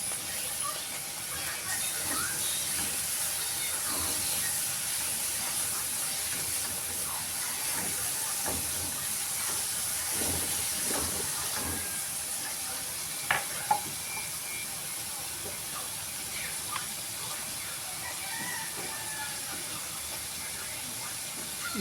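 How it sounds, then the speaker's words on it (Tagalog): Chopped onion frying in hot cooking oil in a home kitchen, a steady close hiss of sizzling that runs throughout, with a few sharp clicks and scrapes of stirring partway through. "mainit ng ating mantika at ating una na ang sibuyas na"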